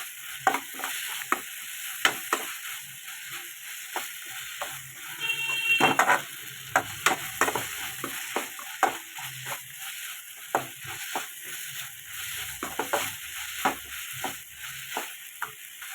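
Cumin seeds and spices dry-frying in a pan, with soft intermittent crackles and frequent light stirring scrapes of a spoon, fairly quiet and close, with a faint steady high whine in the background.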